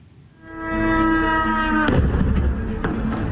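Drone attack explosions at a US military base in Erbil, Iraq: a deep, heavy boom rumbles in, followed by sharp thuds and a sustained low roar, loud and reverberant.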